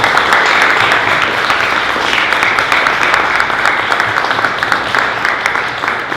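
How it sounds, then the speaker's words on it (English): Audience at a Robotic Circus cast and crew event applauding, a loud, sustained, steady round of clapping that continues evenly throughout, with no talk over it. "So I want you to give applause to Alice Carrera."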